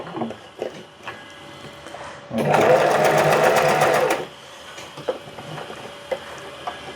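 Usha electric sewing machine running in a close, loud burst of fast, even needle stitching lasting under two seconds, with quiet clicks and handling sounds before and after.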